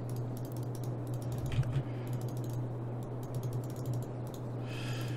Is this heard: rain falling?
no